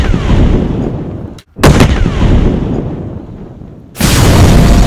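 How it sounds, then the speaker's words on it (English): Loud booming fireworks blasts in the Fortnite video game, set off by a grenade: heavy close bursts with crackling tails, one sharp pop in the middle and a final big blast, without talk. "Pretty fireworks."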